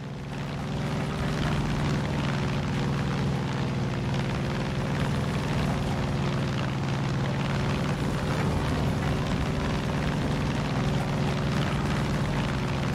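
A helicopter flying in a video game, a loud, dense and unbroken rotor and engine roar that holds steady throughout with no talking.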